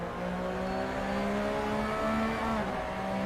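A classic Porsche racing car's engine droning steadily at high revs in the racing game Assetto Corsa, close and continuous with slight pitch shifts and no talking.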